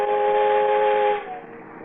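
A person whistling a sustained, clear two-tone note close by, held steadily before fading out.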